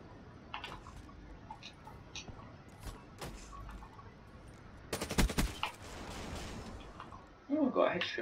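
Gunfire in the Black Ops 3 video game, with sparse single shots early and a dense rapid burst midway, followed by a sharp loud crack near the end, all over low game ambience.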